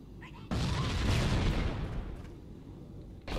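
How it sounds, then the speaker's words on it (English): Heavy explosions in the video game Halo CE: a sudden loud blast erupts and rumbles on for several seconds before tailing off, then another impact hits at the end. "Michael Bay explosions everywhere."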